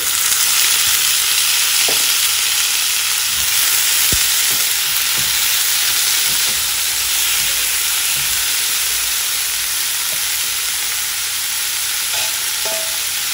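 Onions and chopped tomatoes fry in a pan with a loud, steady, close hiss of sizzling, with occasional faint clicks of stirring and no talk.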